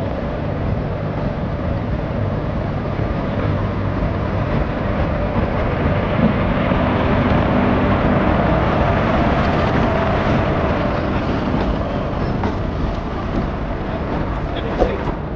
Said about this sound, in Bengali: ট্রেন আমাদের কিন্তু প্রায় ঢুকে গেছে বলতে গেলে